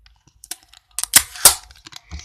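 Adhesive tape pulled and torn off the roll for a homemade squishy, a few short sharp rips up close with small crackles and clicks in between.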